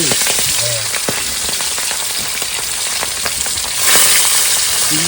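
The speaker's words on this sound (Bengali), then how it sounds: "তেল গরম হয়েছে এবার ভাজবো ইলিশ মাছ" Hilsa fish fries in hot oil with a loud, continuous, close sizzle and crackle that swells slightly near the end.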